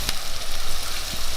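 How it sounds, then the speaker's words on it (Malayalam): Chopped tomatoes with curry leaves frying in a pan sizzle loud and close, a dense continuous hiss with a sharp clack near the start and some faint stirring. "അരിഞ്ഞ് വെച്ച് തക്കാളി ഇട്ടു."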